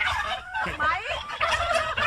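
Turkeys on a turkey farm in Trang gobble repeatedly and loudly up close, overlapping warbling calls filling the whole stretch.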